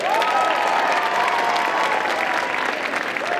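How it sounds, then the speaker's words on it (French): A crowd at a cosplay contest in Saint-Étienne applauds and cheers the jury, with a continuous, loud burst of clapping and whistle-like shouts throughout. "Encore du bruit pour les Meurices, s'il vous plaît."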